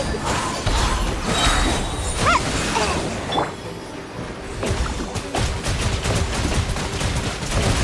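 Dense, continuous bombs exploding in the Genshin Impact game, heavy crashes and shattering bursts layered together, loud and close throughout.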